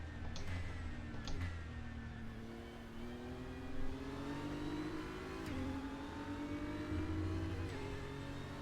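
A GT3 race car engine drones and revs steadily at Daytona in RaceRoom, with the pitch rising and dipping slightly as the throttle is feathered, a continuous mid-loud whine with no voices.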